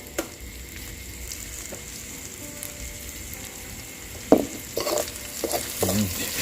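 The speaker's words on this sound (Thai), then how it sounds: "คั่วเครื่องมันหอมครับ" Pounded curry paste stir-fried in a pan with a little oil, a soft continuous sizzle with scraping stirs that grow louder and more frequent toward the end.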